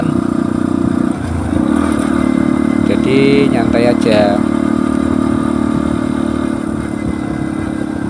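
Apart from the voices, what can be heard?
motorcycle riding on road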